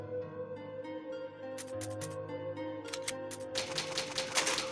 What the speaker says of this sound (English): it's an old typewriter. You can save your progress, use the ink ribbon